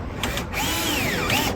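Power driver sinking screws at a slight angle through a timber divider in a Land Rover Series 3, a whirring burst with rising and falling pitch sweeps, fairly loud and close, no talk.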